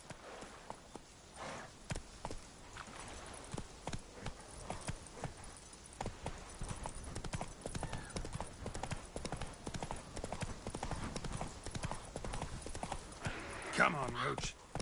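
Roach the horse's hooves clip-clop in a steady walking rhythm in The Witcher 3 game, close and clear, with a brief voice and a short whinny near the end.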